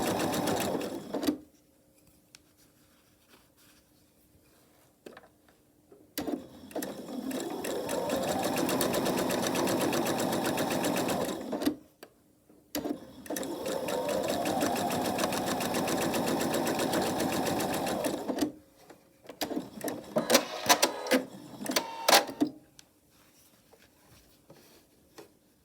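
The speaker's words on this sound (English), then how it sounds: "That just means not stopping sewing, just keep right on going." A sewing machine chain-pieces quilt fabric in two long, loud, steady runs of rapid stitching with short pauses between them, then a brief burst of softer ticking and handling.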